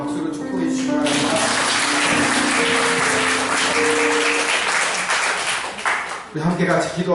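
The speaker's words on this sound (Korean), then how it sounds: "박수로 축복해 주시기 바랍니다." Church congregation clapping together during a Sunday worship service, a loud, dense wash of applause with singing or voices mixed in, tapering off near the end.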